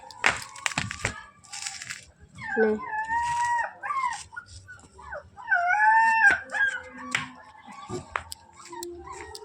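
Several dogs whine, yip and howl up close in rising and falling cries, with some rustling and a few scattered sounds between them.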